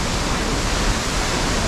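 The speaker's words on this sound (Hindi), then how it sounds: "तो हम अब वाटरफॉल के पास आ चुके हैं" Rushing water from a mountain waterfall near Badrinath, a steady broadband roar filling the whole clip, close and loud, with no voices.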